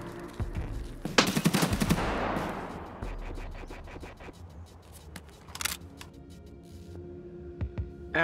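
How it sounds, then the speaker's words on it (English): Gunfire in the shooter game Escape from Tarkov, a loud burst of rapid shots early on followed by scattered, fainter single shots and bursts, as if from down the road. "with the gunfire just down the road,"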